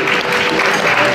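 Audience applause at a New Year event in a hall: a short burst of loud, dense clapping from a crowd.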